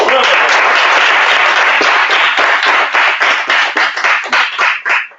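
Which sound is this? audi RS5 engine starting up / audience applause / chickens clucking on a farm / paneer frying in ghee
audience applause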